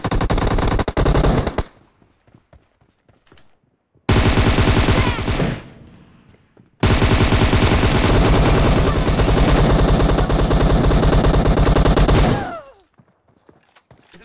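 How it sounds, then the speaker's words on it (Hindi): Rapid automatic gunfire in a mobile shooter game comes in long, loud, continuous bursts with brief silent pauses between them. "बंदा स्नाइप कर रहा है वहां से"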